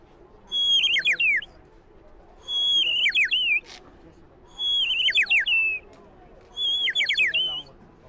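At an international trade fair, a toy whistles an imitation of an oriental magpie-robin's song in four separate bursts of bright, warbling notes, each about a second long, with quiet pauses between them.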